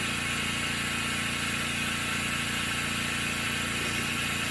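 A Specialty Coating Systems G3P 12 spin coater spins at 6,000 RPM, giving a continuous, even whirring drone with a steady mechanical hum and no breaks.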